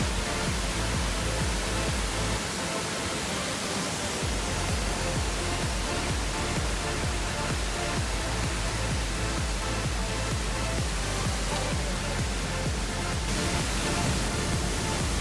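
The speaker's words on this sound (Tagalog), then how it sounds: "Atong adtuon sa magpaduol ta para makita nato ang unsa kadako ang falls." Budlaan/Kabang Falls on a mountain trek roars as a steady, loud, broadband wash of falling water, unbroken and close throughout, with no voices over it.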